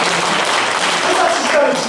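An audience claps at a lecture on future forecasting for an executive programme, a dense, steady patter of many hands filling the room, loud and sustained throughout.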